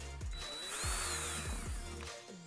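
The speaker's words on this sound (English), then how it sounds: "So we'll drill in with a small drill bit, then we'll go larger" A power drill bores holes through a Subaru WRX STI aero-kit rear diffuser, giving short repeated bursts of whining motor that rise and fall in pitch as the bit spins up and cuts, heard close and clear without talk.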